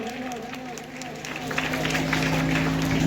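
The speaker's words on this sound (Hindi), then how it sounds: "जोरदार तालियां हो जाए" An audience at a school Saraswati Puja celebration breaks into applause, clapping swelling from scattered to fuller and louder over a steady tonal hum, with a voice speaking over it.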